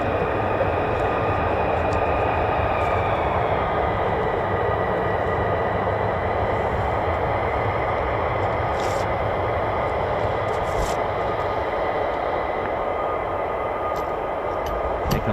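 Continuous broad roar of a military jet arriving at RAF Lakenheath, home of F-15 and F-35 fighters, sustained and fairly distant throughout, with no voices.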